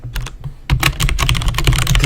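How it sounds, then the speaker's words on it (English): Rapid typing on a computer keyboard, key clicks in uneven bursts that start sparse and quiet, then become loud, close and continuous with no voices. "See, I'm typing, nothing's happening."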